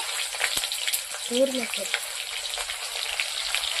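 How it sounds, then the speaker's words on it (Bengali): Lightly parboiled cauliflower florets fry in mustard oil in a village-style kitchen, giving a steady close sizzle with crackles, a brief stirring scrape and faint voice-like tones in the middle. "প্রথমে আমি ফুলকপি ভেজে নেব।"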